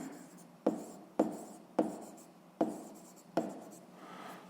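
Writing on a board in a 6th-grade maths lesson: five crisp, evenly spaced strokes with short scratchy tails, close and quiet, no speech.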